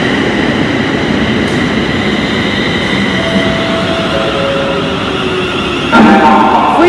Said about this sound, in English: we now have a London Northwestern Railway service to London Euston from Crewe